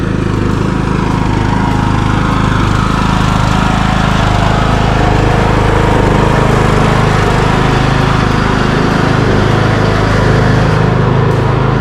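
A Craftsman LT2000 riding mower engine runs steadily and loud throughout, a constant low drone with no pauses and no talking.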